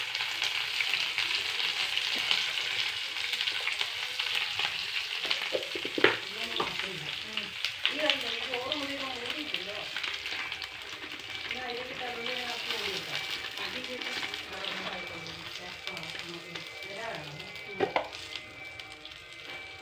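Mustard seeds fry in hot oil with a constant crackling sizzle and occasional stirring, close and fairly loud, while a voice talks over it through much of the stretch.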